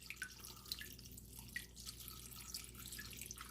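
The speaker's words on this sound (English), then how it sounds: "I put a little tank water in this cup, and then here is the filter, and so I just fill it up here" Aquarium tank water trickles into a filter, a faint, steady watery splash with scattered small drips throughout, close and quiet with no talking.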